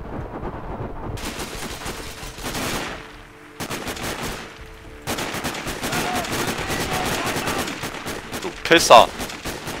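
Bursts of rapid gunfire crack through the shooter game Sniper Ghost Warrior, loud and repeated in clusters with brief pauses, while someone talks and swears over the shots.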